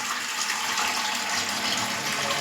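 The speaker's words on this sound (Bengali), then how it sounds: "আর গোলাপ জল দিলাম" Rose water pours steadily into a vessel during a puja offering, a soft continuous trickle and splash close by with no talk.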